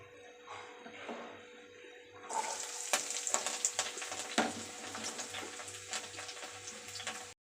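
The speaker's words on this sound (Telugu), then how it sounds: "చక్కగా ఈ ఉల్లిపాయ ముక్కల్ని మనము ఒక 2 నిమిషాల వరకు ఫ్రై చేసుకుందాము" Chopped onions drop into hot oil in a pan and sizzle steadily, a loud continuous frying hiss that jumps up partway through and holds, with no talking.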